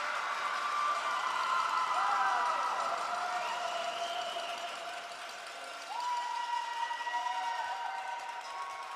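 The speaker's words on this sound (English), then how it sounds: "And you hear the Saskatchewan Heat fans cheering on as they bring down that gap to 2-goal difference." Saskatchewan Heat fans cheering at a ringette game at the Tony Graham Recreation Complex rink after a goal, a steady arena crowd roar with voices rising over it, a brief dip midway before the noise swells again.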